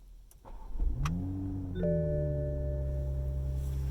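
A 2020 Toyota Supra starts up close by: a brief starter whir, then the engine catches with a quick rising rev before settling into a steady, smooth idle.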